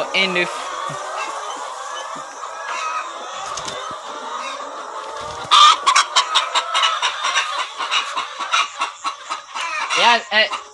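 Laying hens in a poultry house cluck and squawk continuously, a dense, close chorus that grows busier and more rhythmic partway through, with people talking among them.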